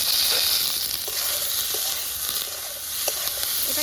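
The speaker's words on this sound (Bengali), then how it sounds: "এটাকে আরও 5 মিনিট ভাজবো" Vegetable stems and potato fry in hot oil with salt, turmeric and split green chillies, giving a continuous close sizzle with light crackles and occasional stirring scrapes.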